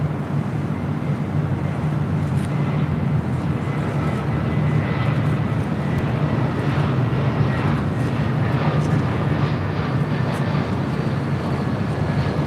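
Airliner landing on runway 24 left at LAX, a constant dense rumbling jet roar with low engine drone, loud and close throughout, mixed with wind-like noise and no talk.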